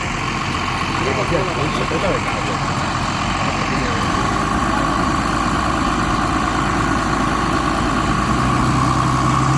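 A Sigma 4 tractor's heavy diesel engine runs loud and steady, a continuous low rumble that holds without a break.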